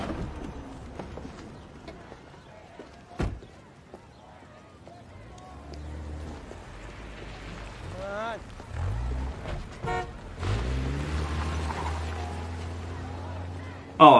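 A car horn toots in short bursts amid street traffic in a TV drama scene, with voices and a few brief honks rising near the end over city background noise.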